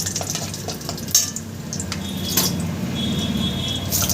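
Whole spices, cinnamon sticks, black peppercorns and green cardamom, frying in oil in a pan for jackfruit biryani, a steady soft sizzle with occasional clinks of a utensil against the pan.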